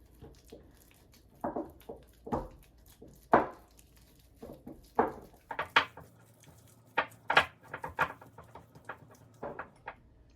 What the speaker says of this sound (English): I just mix it all together